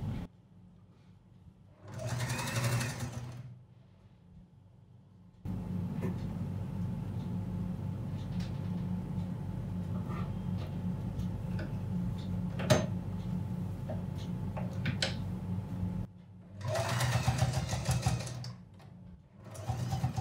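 A sewing machine stitches a churidar in two short, fast bursts of whirring near the start and end, with a long stretch of quieter mechanical hum and handling noises between them.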